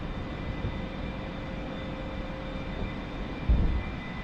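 Steady, droning A-4E jet engine in the DCS World flight simulator during a Blue Angels airshow solo practice, a continuous broadband rumble with faint tonal whine and a brief low thump near the end.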